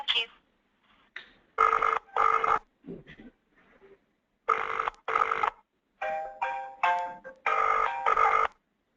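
An incoming call rings on an office phone in repeated double bursts of electronic trilling, loud and close, separated by short gaps, with a brief quieter tone between rings.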